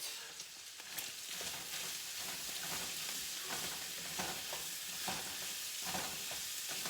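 Meat sizzles steadily while frying in a pan for a Dorito casserole, with continuous close crackling and soft scraping of stirring throughout, no talking.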